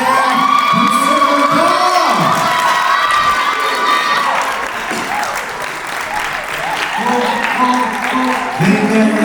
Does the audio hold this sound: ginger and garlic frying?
no